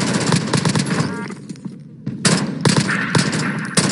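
Rapid bursts of automatic gunfire in a shooting video game, loud and dense with a brief lull in the middle before the firing resumes.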